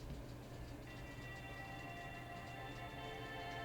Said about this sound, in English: It starts mainly with an ambient guitar,